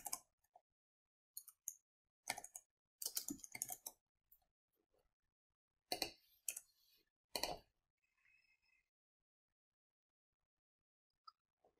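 Someone types a quiz title on a computer keyboard in irregular bursts of crisp, close keystrokes separated by pauses, with a few isolated taps toward the end and no talking.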